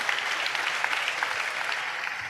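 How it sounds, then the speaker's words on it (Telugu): A church congregation claps during a pastor's sermon, giving a dense, even burst of many hands applauding together throughout, fairly loud and without speech. "చప్పట్లు కొట్టు స్తోత్రాలు చెప్దాం."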